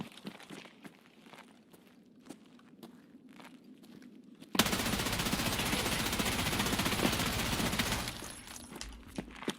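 Gunfire in Escape from Tarkov, on the Interchange map with M80A1 rounds: faint scattered shots and footsteps at first, then a sudden loud, sustained burst of rapid automatic fire lasting several seconds before cutting off.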